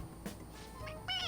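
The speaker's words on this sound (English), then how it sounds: "It meows when you press on its head." A stuffed toy cat in Persona 5 Royal gives a short electronic meow when its head is pressed, rising near the end of the moment over a faint game background.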